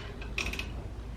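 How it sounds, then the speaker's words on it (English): A wrench turns a bolt on the brake of a 25-year-old Nissan K11 Micra, making a short, close metallic ratcheting creak against a quiet background. "So I'm going to undo these two, this bolt and this bolt."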